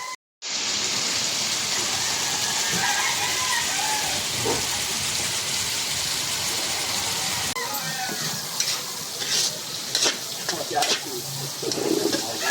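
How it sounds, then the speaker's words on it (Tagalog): Onions and tomatoes sauté in a hot pan as corned beef is prepared, giving a steady, close sizzle that runs nearly the whole time with faint scraping and stirring near the end. "Sibuyas kamatis yan, mga boss. Tayin lang natin na maging golden brown."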